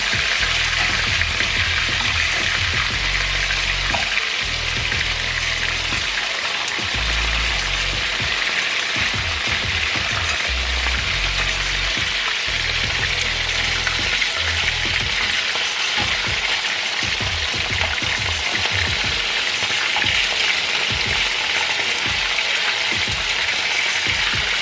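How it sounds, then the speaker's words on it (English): Chicken wings for buffalo wings fry in a pan with a loud, continuous sizzle and crackle, close up, with intermittent low thumps and scraping as the pieces are moved and turned. "I'm gonna cook both sides of the wings twice."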